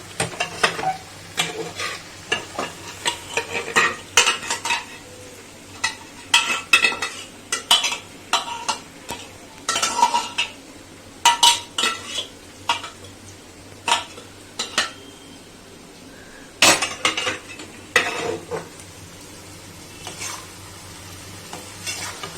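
Boiled split peas dal being stirred into a pumpkin chorchori in a pot, a vegetarian Bangladeshi dish: repeated clanks and scrapes of a spoon against the pot, with soft sizzling underneath, close by and with no talking.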